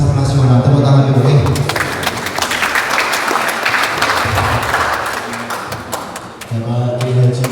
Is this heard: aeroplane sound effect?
no